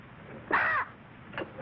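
A single crow caw, a short harsh call at moderate distance, followed by a fainter second note, over quiet background.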